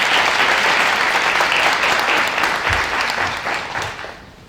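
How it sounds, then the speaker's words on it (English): A school crowd at a kindergarten orientation claps for a longtime event organizer, loud close applause that holds steady and then fades out toward the end. "Let's give her a round of applause as well"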